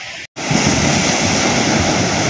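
Rough sea surf just after a typhoon, a loud continuous roar of breaking waves with wind buffeting the microphone, broken only by a brief cut near the start.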